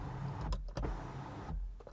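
Electric motor of a Kia Sonet GTX Plus small sunroof opening: a steady, close whirring hum with a couple of soft clicks, running throughout with no talk.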